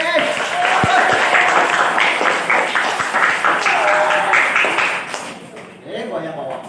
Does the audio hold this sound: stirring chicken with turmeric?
no